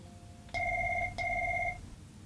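A phone rings indoors in two short electronic trill bursts with a brief gap between them, clear and moderately close, over a low background hum.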